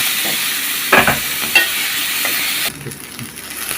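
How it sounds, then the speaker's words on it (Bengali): Chopped onion frying in oil in a pan, a loud close sizzle with a couple of sharp stirring clatters, then the hiss drops noticeably near the end; no one speaks. "পেঁয়াজ কুচি দিয়ে দিলাম, একটু লাল লাল করে আমরা ভাজিয়ে নেব।"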